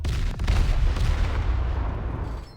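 Naval gunfire from the battleship HMS Tiger in the mobile game War Thunder Mobile: loud, dense, rumbling cannon blasts fill the whole stretch, with one sharper report near the start and no voices.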